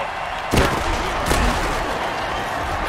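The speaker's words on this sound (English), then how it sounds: "It's called a sonic blast." A sonic blast in the Mutant Football League video game lands as two heavy booming impacts less than a second apart over a steady crowd-like background roar.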